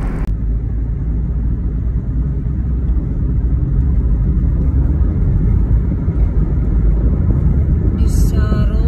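A car driving on a highway in the UAE, heard from inside as a loud, steady low road rumble and engine drone that continues without a break, with a brief higher rattle near the end.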